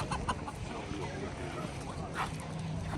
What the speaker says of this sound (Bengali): বেশিরভাগ হচ্ছে মুরগি আর হাঁস আর কবুতর দেখলাম কিছু